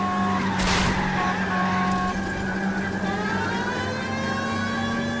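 Car engine droning at steady revs with squealing tires in L.A. Noire, a sharp skid burst early on, then a continuous hum of the motor under faint background sound.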